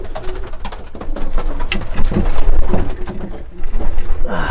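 Racing pigeons cooing up close, soft throaty calls repeating over rustling and fluttering noise.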